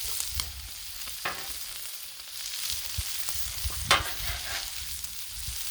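Collard greens fry on a Blackstone griddle at medium heat with a steady close sizzle, punctuated by scraping stirs and spatula clicks; no talking.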